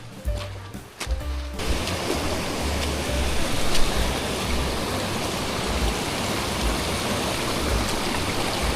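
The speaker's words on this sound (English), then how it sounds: "Pretty little waterfall, eh?" A small waterfall on a hiking trail rushes in a dense, steady broadband roar, close and continuous after a few seconds of handling noise at the start.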